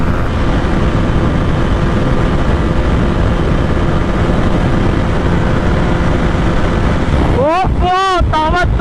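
Strong headwind roaring past two racing motorcycles, a 2026 Duke 200 and a 2026 MT-15 DLX, in a drag race: a constant loud, broadband wind rush with no break, and a voice breaks in briefly near the end.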